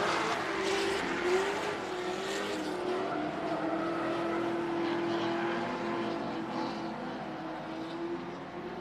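Drift cars race around Colorado National Speedway on brand-new tires, with a steady, loud engine roar and rising and falling revs, plus occasional tire squeal carrying across the track.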